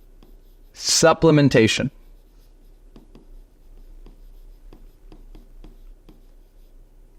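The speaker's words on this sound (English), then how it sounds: "I think I'm going to write this." Faint pen-on-paper writing: soft, scattered scratches and taps run steadily after one brief spoken word, quiet under a low background hum.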